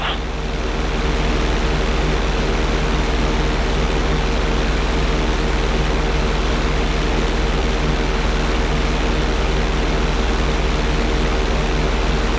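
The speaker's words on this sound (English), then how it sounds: "Okay, roll the plane upside down. Hold the plane upside down for several seconds." In GTA V, a plane's engine drones loud and steady while the aircraft flies upside down, a constant close roar with a propeller hum and no breaks.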